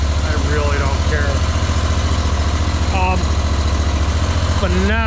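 A Ferris ISX 3300 zero-turn mower's 37-horsepower fuel-injected V-twin idles close by with a steady low throb, while someone talks over it throughout.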